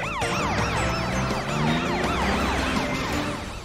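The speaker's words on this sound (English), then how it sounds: "Put your siren on, super police truck!" A toy super police truck sounds its electronic siren, a fast repeating up-and-down yelp that stays loud and steady throughout with no voices over it.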